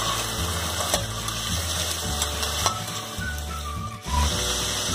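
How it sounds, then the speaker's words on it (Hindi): Jackfruit stew sautéing in a pan over a medium gas flame, with a steady loud sizzle that runs throughout and the scrape of a spoon stirring it now and then. "इसे हम 3 मिनट तक भूनेंगे।"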